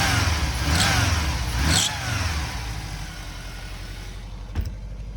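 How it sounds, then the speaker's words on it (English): A 1987 VW Vanagon Syncro engine with a recently replaced catalytic converter revs loudly up close, then eases back to a steadier, quieter running drone with a single sharp knock near the end. "I'll rev it up for you."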